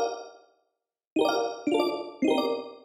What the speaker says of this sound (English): The studio reverb.